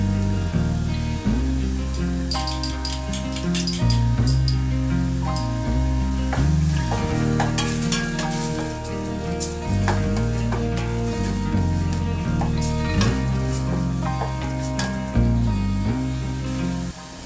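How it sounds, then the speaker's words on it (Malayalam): Chicken curry masala sautés in oil with fresh curry leaves, giving a steady close sizzle. Clinking utensil strokes and stirring scrapes recur throughout, over a low background hum. "പച്ച കറിവേപ്പില കൂടി ചേർത്തിട്ട് ഒരു ഫ്ലേവർ മാറുന്ന വരെ നന്നായിട്ട് വഴറ്റിയെടുക്കുക"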